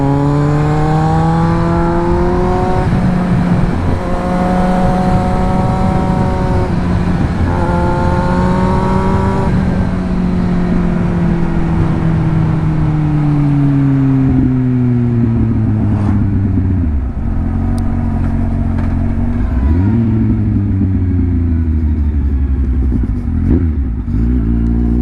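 Motorcycle riding along a road, its engine loud and close with steady droning tones that rise and fall through gear changes and revs, accompanied by constant wind rush.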